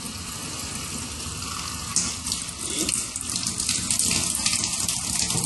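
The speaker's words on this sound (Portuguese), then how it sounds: "Abrir a torneira no máximo." Water gushing steadily from a tap at full flow, a constant loud rush that grows a little stronger partway through.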